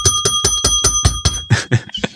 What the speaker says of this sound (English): Can I ask you to press the stat bell